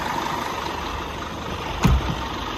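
An Irizar i4 Scania coach engine idles with a steady, low, even rumble, broken once by a short heavier knock near the end.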